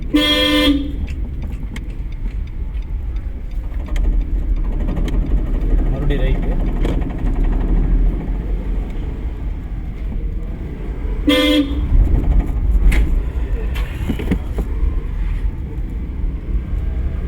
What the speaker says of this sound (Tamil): ஹார்ன் அடிச்சிருக்கோம்.